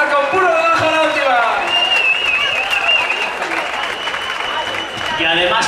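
A concert crowd applauds loudly and continuously, with cheering and a sustained whistle riding over the dense clapping.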